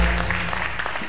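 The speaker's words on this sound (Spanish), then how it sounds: "Le damos un aplauso al Rey de Reyes" Church audience applause praising the King of Kings, a short steady burst of dense clapping over a low sustained tone.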